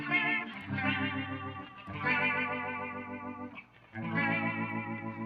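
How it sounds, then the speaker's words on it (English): Guitar chords ring out with a swirling, warbling rotary-speaker wobble, three sustained strums separated by brief gaps, played alone. "A rotary was spinning a cabinet around."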